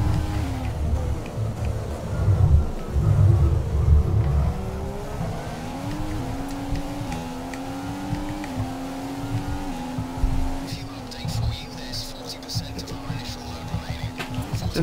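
A high-revving Formula 1 engine in the video game F1 2015 at Bahrain whines and shifts pitch as it accelerates, with tire noise and a voice talking over it.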